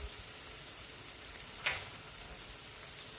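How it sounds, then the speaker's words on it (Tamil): Soft, steady sizzling of tomatoes sautéing in a pan, with a brief scrape or clink partway through; quiet and continuous. "தக்காளி சேர்த்து கொஞ்சம் வதக்குனதுக்கப்புறம்"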